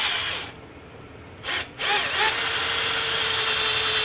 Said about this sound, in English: I've got my 5/8 Forstner bit here. I'm going to go right in the center.